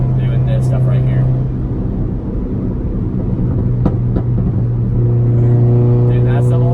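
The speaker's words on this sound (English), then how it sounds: "So backfiring, making pop sounds, and doing this stuff right here." Straight-piped Mk4 VW GTI 1.8t running with a loud, steady exhaust drone, broken by a few sharp backfire pops near the end.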